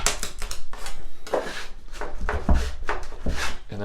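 A putty knife scrapes and knocks as it pries baseboard loose from drywall, producing a dense series of close, sharp wooden taps and scrapes in irregular rhythm with no talking.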